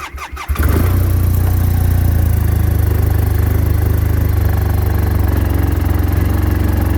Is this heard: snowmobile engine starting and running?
yes